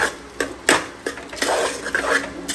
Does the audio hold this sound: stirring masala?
yes